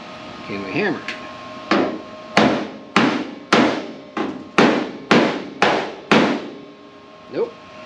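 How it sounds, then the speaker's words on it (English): A body hammer taps sheet metal of a Firebird's new trunk floor about a dozen times in a steady, evenly spaced rhythm, each strike sharp and ringing, close and fairly loud. "a little body hammer just to make sure everything's flat."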